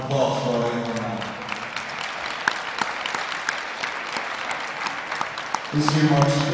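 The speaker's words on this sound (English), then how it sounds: "And please have a round of applause for our ladies and gentlemen." A gym crowd claps for standing alumni at a high school wrestling meet, with sustained applause carrying sharp individual claps and some cheering voices, swelling louder near the end.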